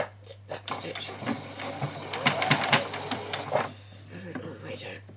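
A sewing machine back stitches fabric while a bunny is being sewn, running in short bursts with a rhythmic mechanical chatter over a steady motor hum as a person speaks over it.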